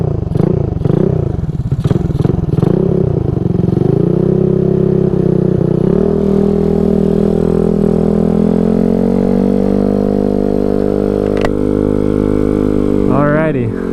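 Honda Ruckus scooter fitted with new brake levers, its small engine revving up and settling into a steady close drone, with clattering at the start and end.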